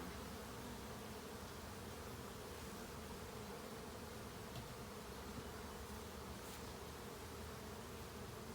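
Honeybees at a hive make a dense, steady buzzing hum throughout, close and even, with no voices.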